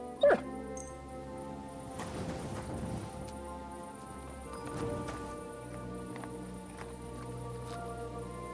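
A dog in Kingdom Come Deliverance 2, heard as soft whimpers and small yips at moderate distance over a quiet outdoor ambience with faint hoof-like clopping.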